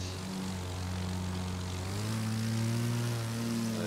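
A propeller plane drones in The Crew 2 while performing aerobatic maneuvers, a steady close engine tone whose pitch slowly rises and shifts, heard alone without talk.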